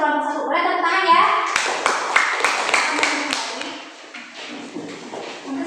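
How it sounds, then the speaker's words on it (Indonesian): Pupils applaud in a classroom after a group presentation, a burst of scattered hand clapping that follows a teacher speaking and continues for several seconds, thinning out toward the end. "Boleh tepuk tangan ya."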